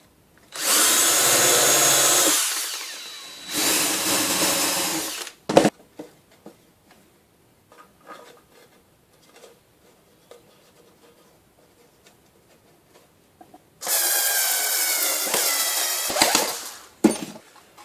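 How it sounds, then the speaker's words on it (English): A power drill fitted with a 4mm bit bores holes in two loud, sustained bursts of a few seconds each, separated by quiet stretches with small clicks and knocks of handling. "so I'm going to use a 4mm drill now"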